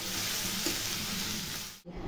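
Steady, loud sizzling of dried fish frying in a hot pan, continuous and close, briefly cutting out near the end before resuming.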